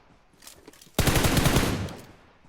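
A sustained burst of automatic gunfire rings out in PUBG Mobile on the Erangel map, loud and close, rattling for about a second after a quieter lead-in.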